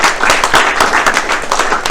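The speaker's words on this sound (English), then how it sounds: "Let's give them a hand." Audience applause honoring celebrities, former NFL and NBA players, at a LIV Miami celebrity golf event: dense, steady clapping from many hands fills the whole stretch at close, loud level without pause.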